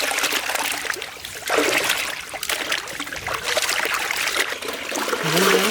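Chicken meat washed under running water while making bamboo chicken curry, a continuous close trickle and splash that holds steady throughout, with no talking.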